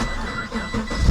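A low-mileage 2006 Pontiac GTO with a manual transmission runs a little rough, its engine giving a brief, loud, close mechanical hum.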